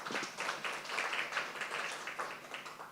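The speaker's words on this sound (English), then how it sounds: "Let's give him a round of applause." Audience at a research week session applauding after a talk, a faint, steady patter of many hands clapping for a few seconds.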